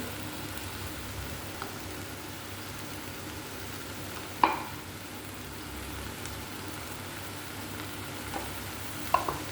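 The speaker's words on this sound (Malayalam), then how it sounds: "അപ്പോൾ നമുക്ക് തൈര് വെച്ച് ഇളക്കി രണ്ട് മിനിറ്റ് ഒന്ന് ചൂടാകുമ്പോഴത്തേനും നമുക്ക് ഓഫ് ചെയ്യാം" A soft, continuous sizzle of aviyal heating in a hot pan after curd is added, with a few sharp clinks of the spoon against the pan and no talking.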